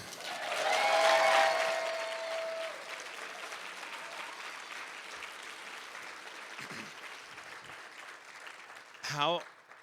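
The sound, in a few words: audience applause for sponsors at awards dinner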